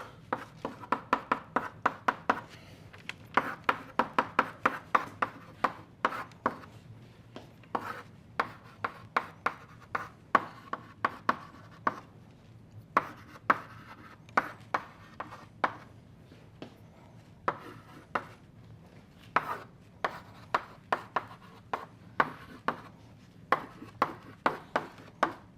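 Pen or marker strokes on a board or paper as an equation is written out by hand, a steady run of short scratchy taps and scrapes, close and clear with no talking.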